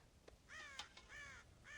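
Crows in the Red Dead Redemption video game give several harsh, drawn-out caws in quick succession, fairly faint and at middle distance, with a few small clicks in between.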